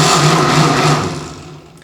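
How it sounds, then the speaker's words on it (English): A blender grinds soft soaked mushrooms with added water, a steady loud whirring drone that holds evenly and then slowly fades toward the end, with no talking. "when you add your mushrooms into the blender, your soft, pliable, soaked mushrooms into the blender"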